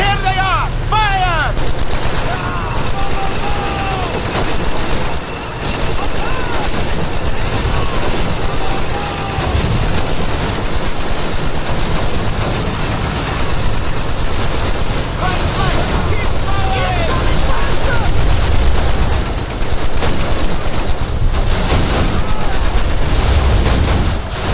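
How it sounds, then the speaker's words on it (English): Loud, sustained machine gun fire and rifle shots fill a World War II battle in the game Call of Duty United Offensive. Dense overlapping bursts rattle continuously, with shouted commands heard amid the gunfire. "Machine guns ready! There they are! Fire!"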